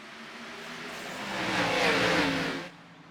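Stock cars roar past at North Wilkesboro in a racing game, a loud engine drone that rises to a peak near the middle and then fades as the pack passes.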